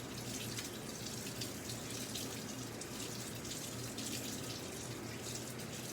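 Tap water runs steadily while hands are rinsed under it at a sink, a continuous close splashing hiss that holds even and unbroken throughout, with no voices.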